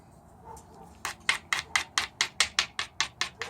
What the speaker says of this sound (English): I think I'll switch over to copper now. I'll get a few more thinning flakes off of that face.